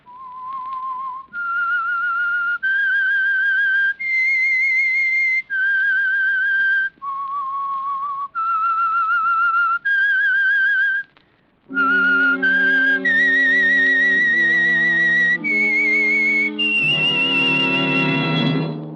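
The whistled signal tune of the radio mystery program The Whistler, a clear solo melody of sustained pitched notes stepping up and down, then joined by a fuller orchestral accompaniment for the closing phrase.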